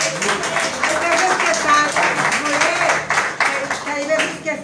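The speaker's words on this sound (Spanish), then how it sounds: "aplauso a él." A church congregation claps for the pastor during a Shabbat service, a steady patter of hands mixed with voices and some tonal sound underneath.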